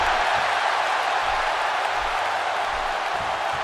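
A sellout arena crowd in a wrestling video game roars in a dense, continuous wash of cheering, loud and even for the whole span with no breaks or distinct voices standing out.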